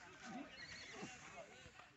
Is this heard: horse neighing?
yes